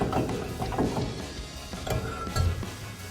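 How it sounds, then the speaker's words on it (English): Rear brake rotor on a 2009-2018 RAM 2500 being pulled free of its 8-lug hub, giving a few scraping metallic clunks and rattles, close and moderately loud with no talking. "now we can just pull our rotor off"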